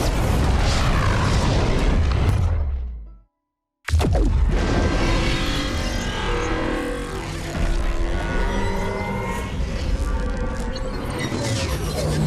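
A huge Big Bang explosion in Fortnite booms loudly, cuts to a second of total silence, then erupts again into a long, rumbling, roaring blast.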